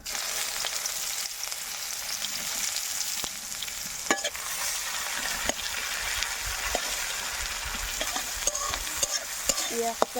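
Chopped onion frying with garam masala and whole cumin in oil for a Bengali tomato chorchori with bele fish, a steady close sizzle with occasional stirring scrapes and clicks, no voices.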